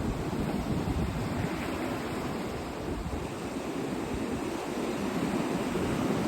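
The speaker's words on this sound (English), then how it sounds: "Oh, there's some big waves coming in now." Constant roar of ocean surf with waves breaking and washing in, loud and close, blended with wind rumble and no voices.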